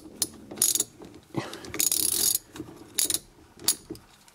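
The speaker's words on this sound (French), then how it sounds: "Et ensuite un embout T45 étoile. Vous mettez au centre et vous desserrez." A ratchet with a T45 Torx bit clicks in quick, close bursts while loosening the steering wheel bolt of a 1997 Renault Twingo, mixed with metallic rattles of handling and no speech.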